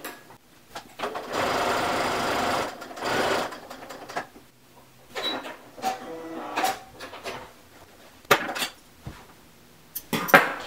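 A home sewing machine stitches the bottom edge of a boxed-corner zipper bag, running in several close whirring bursts separated by short pauses and light clicks and handling noises.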